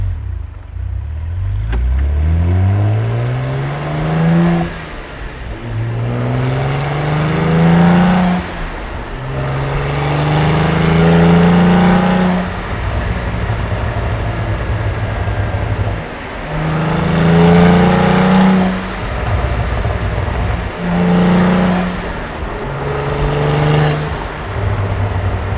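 A Cadillac CT4-V Blackwing with its exhaust valves open revs and accelerates up through several gears, each pull rising in pitch and then dropping at the shift. It is loud and close, heard from inside the car during its break-in period.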